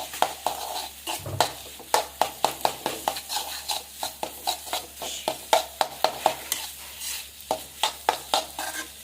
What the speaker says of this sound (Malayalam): ഇങ്ങനെ ഒന്ന് കുത്തി ഉടച്ചു കൊടുക്കണം, എന്നാലേ അത് എല്ലാ ഭാഗത്തും ഒരേപോലെ ആവുള്ളൂ